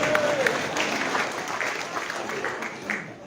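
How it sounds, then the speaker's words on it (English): A seated audience at an indoor public meeting claps steadily for a few seconds, a continuous moderate patter of hands with faint voices underneath, ending with a sudden louder bump. "let's give her a clap for humour."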